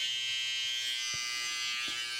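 A BaByliss Pro hair clipper with a gold blade runs switched on, giving a steady, even, high-pitched electric buzz held close without a break.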